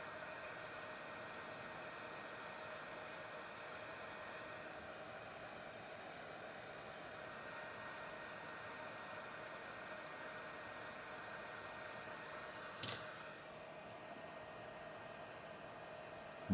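A cheap hot air rework station blows a steady, faint whooshing stream of hot air with a constant hum, interrupted by a brief click near the end.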